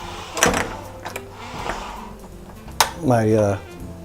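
A metal pan is pulled out and handled in a home kitchen while roasting herbed lamb. Several clanks and knocks come close together, followed by a short ringing scrape.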